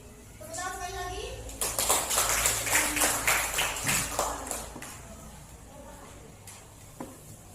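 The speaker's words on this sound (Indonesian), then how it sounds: "Tepuk tangan sekali lagi." An audience at a school class gathering claps hands together, a dense burst of applause lasting several seconds that fades out, following a voice at the start and with faint talk returning afterward.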